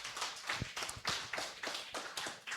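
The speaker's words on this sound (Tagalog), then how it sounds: "Isang malakas sa palakpak para kay Lord John" An audience gives applause for Lord John, heard as faint, fairly sparse claps in a loose rhythm, quiet and slightly distant, without speech.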